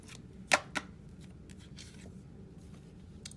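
A deck of tarot cards being cut by hand, with a sharp slap and a second lighter card snap near the start, followed by faint papery rustles and taps, close and quiet.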